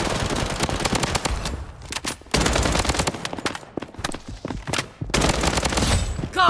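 Rapid gunfire from the Blood Strike video game, in dense automatic bursts broken by brief pauses, loud and close throughout.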